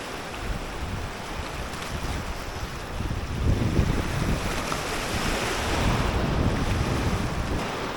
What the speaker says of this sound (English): Rough ass waves coming in on me right now.